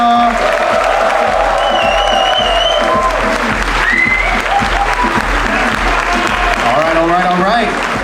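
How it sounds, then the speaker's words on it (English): A loud, dense round of applause and cheering from an event audience welcoming a DJ at a dance show, sustained and steady throughout, with whoops and voices mixed into the crowd noise. "Everybody, a huge round of applause for"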